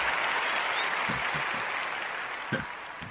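Audience applause fills the room as a steady, fairly distant wash of clapping that slowly tapers, with a few low thumps underneath.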